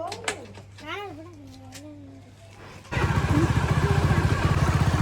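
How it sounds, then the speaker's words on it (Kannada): After a few seconds of voices, a scooter is kick-started close by; the engine catches and settles into a loud, steady, pulsing idle. "ಹೊಡೆದು 2-3 ಸಲ ಚಾಲ ಆಗಲಿಲ್ಲ ಮತ್ತೆ ಒಂದು ಸಲ ಚಾಲ ಐತೆ"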